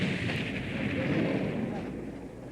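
A small pyrotechnic charge goes off on a miniature model for a Star Wars effects shot, giving a broad, muffled blast rumble that swells and slowly decays over a couple of seconds.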